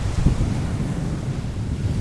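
Ocean waves and gusting wind at Aruba's Natural Bridge, a loud continuous rumble of surf mixed with wind buffeting the microphone, with no voices.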